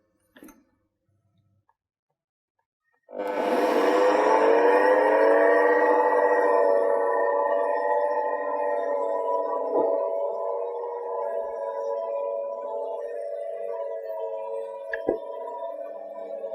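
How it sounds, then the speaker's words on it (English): Rotating beam bending fatigue testing machine spinning up to 3000 rpm in a solid mechanics lab, loaded at 130 kg·cm: after a faint knock it starts with a rising whine that settles into a steady, loud mechanical hum, with a brief tick near the end. "I will start the machine at a speed of 3000 rpm."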